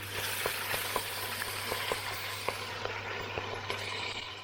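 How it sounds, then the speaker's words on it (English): Venison meat sizzles in a pan, a steady frying hiss with regular sharp crackles and pops spaced through it over a low constant hum, close and moderately loud with no talking. "We're gonna pour the meat into the pan and let it sizzle"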